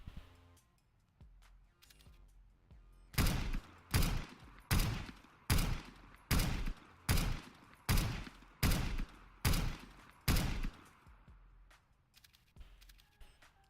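About eleven evenly spaced automatic sniper rifle shots from new CS:GO video game gun sounds fire in steady rhythm, each loud, sharp and close, with brief echo tails and no talk.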